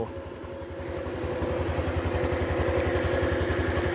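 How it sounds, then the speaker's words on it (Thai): A new 2023 Honda Super Cub motorcycle idles steadily up close, its small engine giving a fast, even, putting pulse that rises slightly in loudness after starting and then holds a constant rhythm with no talk. "ก็คือเครื่องติดเลยนะครับ"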